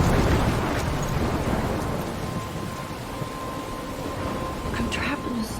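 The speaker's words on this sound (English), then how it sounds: "I'm trapped in a storm?" Steady heavy rain and rumbling thunder fill a stormy scene in the video game Life is Strange, a dense continuous downpour with a low roll throughout and brief sharper crackles near the end.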